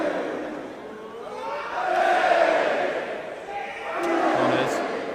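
A wrestling crowd at the Pro Wrestling World Cup semi-final between England and Japan roars in broad swells, the noise rising and falling twice and filling the arena, with no clear single voice standing out.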